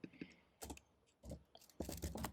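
Keys on a computer keyboard clatter in several short bursts of quick taps, with brief pauses between them, heard close and fairly soft.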